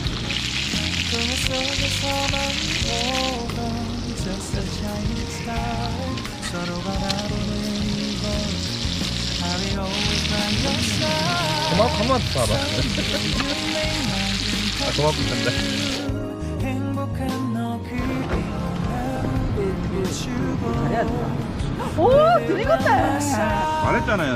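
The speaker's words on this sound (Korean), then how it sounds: "달구진 상태에서 예, 스테이크를 올려놓아야 맛있게 육즙이 안 빠져나가고 이렇게 맛있게 요리가 됩니다" T-bone steak sizzling in a hot pan at a campsite, a continuous hiss under steady talk from people nearby, with clinks and scraping as it cooks.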